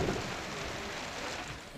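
Steady rain falls during the last stage of a journey to release a kiwi, a dense, even wash of hiss with no talk over it.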